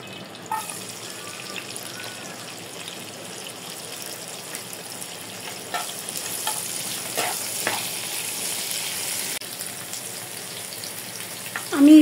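Onion and garlic dropped into hot oil as a tempering for greens sizzle in a steady, close crackle that runs for several seconds, with occasional stirring scrapes and no voices.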